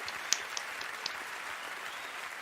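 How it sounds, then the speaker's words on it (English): Applause from an audience rises as a steady, distant wash of many hands clapping, with a few sharper individual claps standing out near the start, fairly faint and without talk. "I'll give him a clap for All that."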